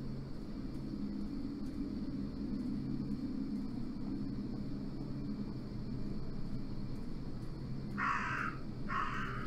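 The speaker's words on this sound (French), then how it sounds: "le corbeau m'a fait peur." Two harsh crow caws ring out near the end of a quiet stretch of low ambient drone in the horror video game Martha Is Dead.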